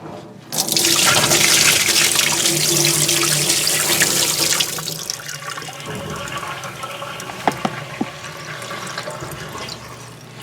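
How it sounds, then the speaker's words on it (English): Dirty water from a carpet cleaning extractor used on car seat upholstery pours out in a loud rushing splash for a few seconds, then trickles and drips more quietly, with a couple of small clunks near the end. "this is what the water is looking like when I dump it out."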